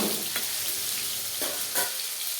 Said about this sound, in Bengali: এখানে একটা টমেটো কুচি এর মধ্যে দিয়ে দিচ্ছি। টমেটোটা আমি একটু হালকা করে নেড়ে নেব।